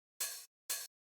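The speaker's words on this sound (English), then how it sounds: "If you listen to the 909 hi-hat," A 909 drum machine hi-hat sounds twice, alone and close: two bright, hissy open hits about half a second apart, each held briefly and then cut off cleanly into silence.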